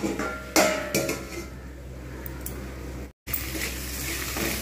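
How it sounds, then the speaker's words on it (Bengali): A lid set on a cooking pot of taro stolon and prawn curry gives one sharp, close metallic clank, followed by faint clinks over a steady kitchen hum, then a short dropout. "আমি এবার একটু ঢাকনা দিয়ে দেবো।"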